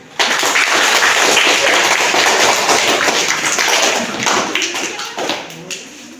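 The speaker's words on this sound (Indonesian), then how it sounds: "mari kita berikan tepuk tangan untuk kelompok 4 yang sudah mempresentasikan hasil diskusi kelompoknya" A ninth-grade civics class claps loudly for group 4 after its discussion presentation, a thick burst of many hands that starts abruptly, holds strong, then thins and fades near the end.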